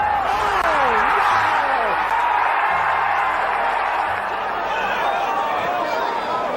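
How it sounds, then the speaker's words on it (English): A Sunday crowd at the Masters golf tournament roars as a steady, dense wash of distant cheering, with someone speaking over it. "The roar of the Sunday crowd."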